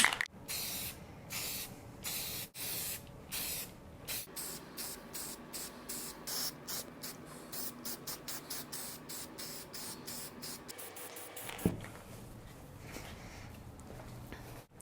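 Spray paint applied to home decor items in a rapid series of short, loud hissing bursts with brief gaps between them, close up and with no talk.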